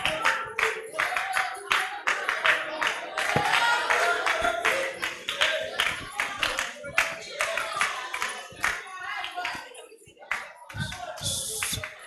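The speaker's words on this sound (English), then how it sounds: "Let's clap for them." At a vocations camp gathering of priests and sisters, an audience claps for a group, dense, steady applause with uneven bursts going on for several seconds, fairly close and loud with room noise mixed in.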